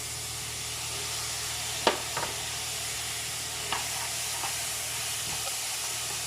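Vegetables tossed in a hot wok with fish sauce and soy sauce, a continuous loud sizzle and steam hiss broken by a few sharp scrapes of stirring, with no voices.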